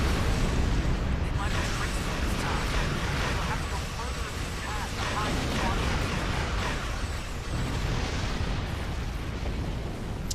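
A dense, roaring barrage of red torpedo fire and explosions from a Star Trek Online space battle, loud and continuous throughout.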